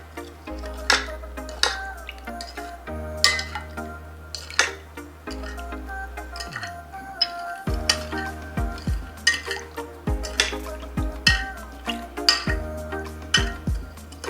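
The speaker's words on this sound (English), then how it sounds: "Stir until well combined." A utensil stirs a Mongolian beef sauce mixture with a pinch of salt in a bowl, making repeated light clinks and taps against the dish under steady background music.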